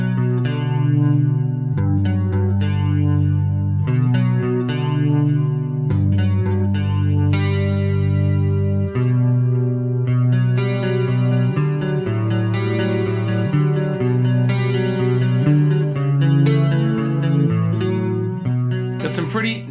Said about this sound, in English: Got some pretty nice wide reverb and some stereo delays happening there.